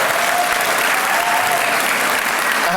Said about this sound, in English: How about a round of applause for Basil,